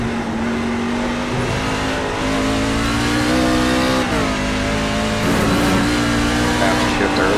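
A rookie-class racing truck engine accelerating around Watkins Glen, heard as a loud continuous close engine drone with rising pitch and shifts, constant throughout, with a radio voice speaking over it.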